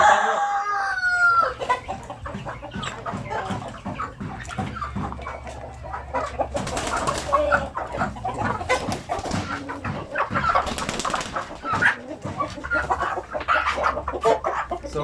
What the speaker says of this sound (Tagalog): So, nandito yung ating mga Zampi native chicken. Yan. Purebred Zampi native chicken.